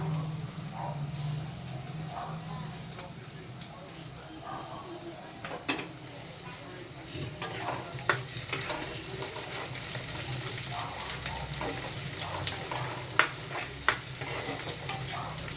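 Chopped onion, ginger and garlic fry in a pan over lowered gas heat for chilli chicken, a steady soft sizzle broken by scattered clinks and scrapes of stirring, with faint talk in the background.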